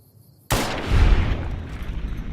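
Gunfire in Fallout New Vegas, modded, lands as one sudden loud blast out of near silence, then a rumbling, crackling tail that carries on to the end.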